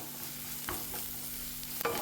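Onion, ginger and garlic sauté in a pan for an idli chutney, a soft, steady sizzle with a couple of scraping stirs and a brief clink near the end.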